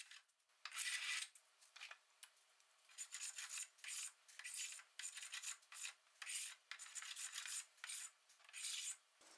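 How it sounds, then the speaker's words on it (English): Fine sandpaper rubbing a wooden podium leg in repeated short strokes, a close, dry rasping hiss that comes in rhythmic bursts with brief pauses, alone and fairly quiet. "A fine sandpaper removes the facets"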